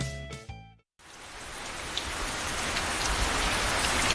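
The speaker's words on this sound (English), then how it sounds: "That's the sound of a leaky roof." Steady rain sound effect of a leaky roof, a dense, constant patter of drops that fills in abruptly after a brief musical sting and continues loud and unbroken.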